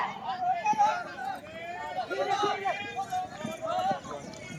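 Horse hooves gallop at an all-Pakistan tent pegging competition in Pir Mahal. The hoofbeats come as a quick, steady run under continuous announcer commentary and crowd chatter.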